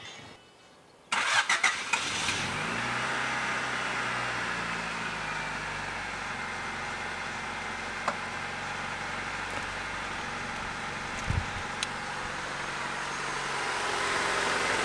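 A car engine cranks and catches after a second of quiet, then settles into a steady, even idle that runs on, close and continuous, with a few faint clicks and no talk.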